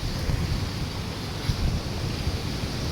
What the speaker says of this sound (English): See, such a big waterfall, Chelsea.